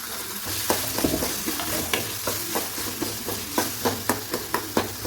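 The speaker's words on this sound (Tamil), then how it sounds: "இப்போ தக்காளி போட்டுக்கிறேன்" Tomatoes going into a pan of ground garam masala base for chana masala gravy, a close sizzle with a rhythmic series of spoon scrapes and taps against the pan, no voices.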